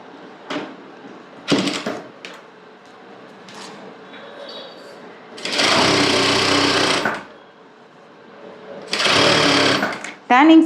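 A sewing machine runs a turning stitch on salwar pants in two loud sustained bursts of rapid whirring, with a voice talking between and before the runs and small handling clicks.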